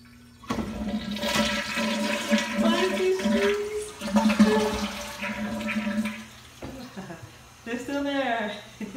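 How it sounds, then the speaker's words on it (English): A toilet flushes close by with a loud rushing swirl of water that gurgles and drains for several seconds, then refills more quietly, with voices speaking over it. "let's see what happens when I flush the toilet"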